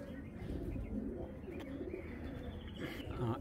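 Racing pigeons kept by a breeder-seller coo in a dense, continuous low murmur, with faint chirps over steady background noise and some voices nearby.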